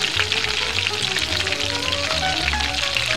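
Frozen steak and asparagus fry in a pot, a loud, steady close-up sizzle with popping spatter throughout and no voices.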